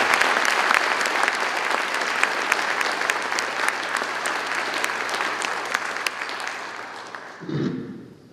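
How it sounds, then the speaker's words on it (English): Sustained applause from a crowd at a Veterans Day ceremony in Granbury, Texas, honoring a choir and junior ROTC, dense steady clapping fading out near the end. "Y'all join me in just giving them one more round of applause"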